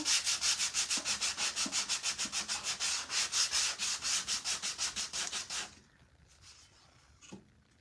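Sandpaper rubs back and forth along the edges of a wooden scarecrow and sunflower craft kit, a fast, even run of about two dozen close, loud rasping strokes that stops abruptly, leaving near quiet.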